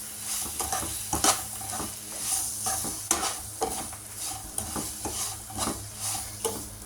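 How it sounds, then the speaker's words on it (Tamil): Continuous scraping stir of dry semolina in a pan of hot oil, with a steady sizzle and irregular spoon strokes, close up and fairly loud, no talking. "ரவையை போட்டு நல்லா அந்த எண்ணெயிலே நல்லா மிக்ஸ் பண்ணணும்."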